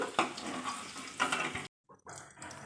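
Paneer cubes frying in a pan give a steady, close sizzle that stops briefly, then returns more softly.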